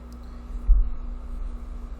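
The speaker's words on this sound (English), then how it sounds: "if you hear something in the background, it's my air conditioner" A home air conditioner drones with a constant low hum in the background, broken only by one soft dull thump midway.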